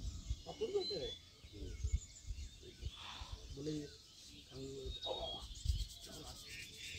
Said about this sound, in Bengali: আর শুধু চারিদিকে শোনা যাচ্ছে পাখির ডাক।